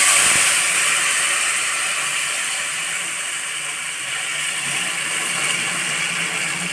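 Tamarind water hits a hot tempering pan with a loud, broad, continuous sizzle that hisses steadily and fades slightly over several seconds, heard close up.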